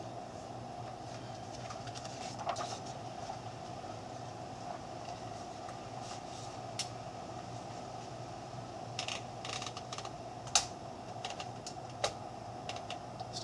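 A 1938 Royal Aristocrat manual typewriter struck a few times, giving sparse, faint key clacks spread over a quiet, steady room hum.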